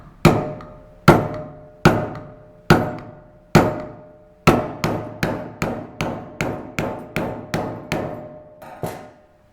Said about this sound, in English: Grab our next dentist tool here, the old giant screwdriver.